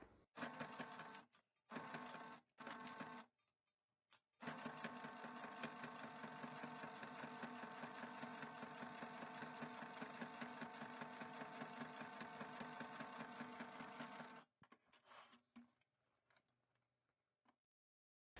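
A sewing machine topstitches a flat-felled seam on a shirt, running slowly: a few short stitching bursts, then a long, steady mechanical run, then several more brief bursts, all close and clear with no talking.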